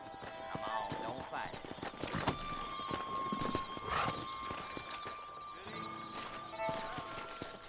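Horse hooves clop in the Western video game Red Dead Redemption, with steady rhythmic footfalls under a voice talking over the game's ambient sound.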